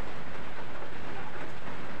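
Heavy rain pours down in a dense, steady hiss that stays loud and unbroken throughout, with no voices.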